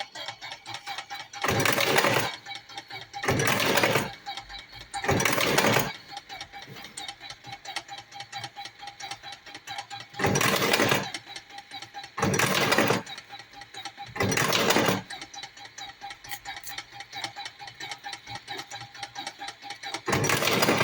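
A Karaşimşek TM Pro double-stroke cigarette tobacco filling machine with a MOSFET board and coil runs in repeated bursts of a few seconds each. Its whirring, clattering strokes alternate with quieter stretches, and a faint low hum continues between them.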